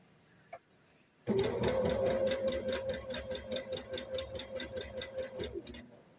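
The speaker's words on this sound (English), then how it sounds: "sewing down to my 6-inch line" A sewing machine stitches down a t-shirt placket on a long dress, running steadily and close with a rapid rhythmic needle clatter after a brief click, then slowing into pulsing stitches near the end.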